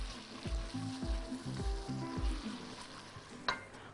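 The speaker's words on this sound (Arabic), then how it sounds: "وأقلب مع كل الحركات دي، نزل كل كمية الذرة" Corn kernels stirred and sizzling in a pot while making corn soup, with a steady frying hiss broken by a rhythmic series of scraping stirs and one sharp clink near the end.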